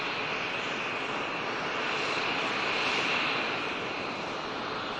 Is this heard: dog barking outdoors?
no